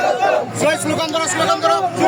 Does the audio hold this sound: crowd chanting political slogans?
yes